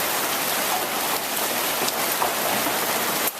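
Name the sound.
pea-sized hail falling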